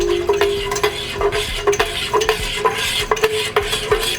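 A utensil stirs a mixture with vanilla extract and fresh vanilla beans in a kitchen, making close, loud, rhythmic scraping and clinking strokes that repeat steadily against the bowl or pan, with no voices.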